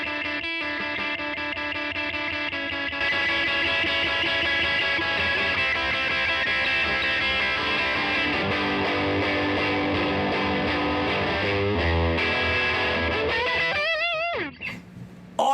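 A heavily distorted electric guitar rings out through an amp via a JHS Colour Box V2 pedal in the effects loop, in sustained, thick chords, ending with a wobbling squeal and an abrupt cut.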